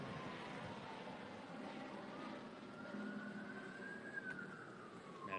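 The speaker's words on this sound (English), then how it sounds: "Keep an eye on that helicopter." A police helicopter flies overhead during an escalating street situation outside a police district station, its steady rotor and engine drone heard from a distance over outdoor ambience, with faint tones drifting through.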